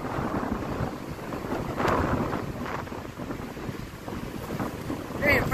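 Strong wind buffets the microphone at a monument, a continuous loud rumbling roar with gusts swelling and easing throughout.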